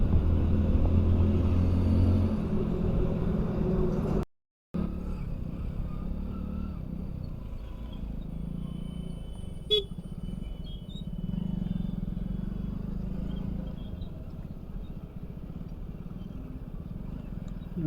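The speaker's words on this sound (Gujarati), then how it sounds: "ટ્રાફિક જો ગાઈસ કેટલું છે," Steady low rumble of road traffic with passing car and motorbike engines, continuous and fairly close, broken by a brief gap of silence partway through.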